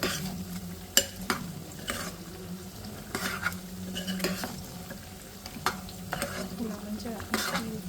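Meat pieces being stirred with salt and chili in a pan, with repeated scraping and clinking strokes over a low steady sizzle, close by and without talk.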